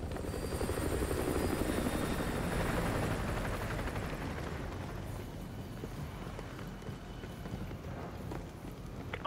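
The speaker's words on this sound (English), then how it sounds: "Enemy helo patrolling the perimeter." An enemy helicopter patrols a perimeter in Modern Warfare 2 Remastered, its rotor producing a loud, continuous thudding drone that holds steady before easing slightly, heard alone without talk.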